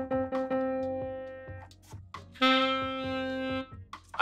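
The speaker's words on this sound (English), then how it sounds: "So a C on the piano would sound like this." Piano notes ring out, a short sequence of plucked attacks followed by a sustained C that holds clearly and then fades, heard alone without talk.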